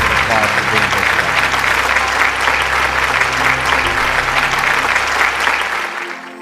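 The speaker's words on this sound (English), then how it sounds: "please join me in thanking him with a round of applause for being here today" A room full of people gives loud, dense, continuous applause after a Q&A session with a doctor, the clapping sustained for several seconds before cutting off abruptly.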